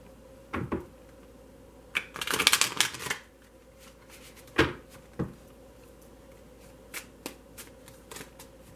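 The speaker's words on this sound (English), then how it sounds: "I think it's really important to shuffle on screen, so just bear with me while I do it." Tarot cards being shuffled by hand during a reading, with soft scattered taps and a brief riffling burst in the middle, quiet and close over a faint background hiss.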